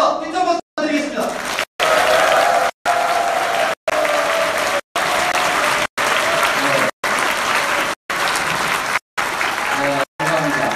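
An audience at a lecture applauds in welcome for Seongnam mayor Lee Jae-myung, loud sustained clapping filling a large hall, with occasional voices under the noise.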